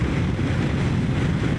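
Strong wind roars steadily past a rider on a Suzuki V-Strom 800DE motorcycle, a loud, dense, unbroken rush with no voices.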